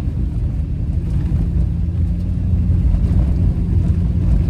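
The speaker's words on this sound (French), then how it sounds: "je suis sur une route de terre présentement, donc c'est un peu plus bruyant" A 1999 Subaru Sambar Dias II kei van drives along a dirt road, giving a steady, loud low rumble of engine and road noise with no talking.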